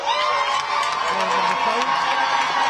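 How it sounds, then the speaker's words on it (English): A crowd roars and cheers at a women's rugby premiership final as Stirling County are led onto the field, a dense, sustained wall of shouting and whoops heard from within the stands with no break. "a big roar as Luke and Stirling County are led onto the field of play"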